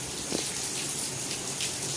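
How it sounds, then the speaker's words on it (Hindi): Heavy rain pours steadily over a village in India, a dense unbroken hiss of water at moderate loudness with no pauses and no talking. "देखिए क्या मस्त झमाझम बारिश हो रही है"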